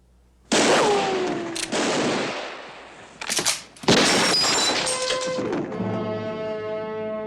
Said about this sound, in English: Cartwright, you just got in the way of a wild bullet